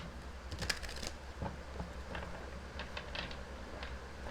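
A deck of tarot cards is shuffled by hand, giving soft riffling flutters and light taps over a steady low background hum, with no talking.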